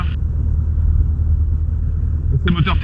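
Robin DR-400 120 light aircraft engine holding a steady run-up at about 1000 rpm, a continuous low droning rumble heard from inside the cockpit, with a brief higher hiss at the start and end.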